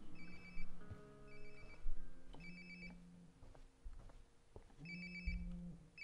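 A phone rings in the video game Life Is Strange: Before The Storm, with repeated electronic ring bursts in a regular pattern over soft game background music.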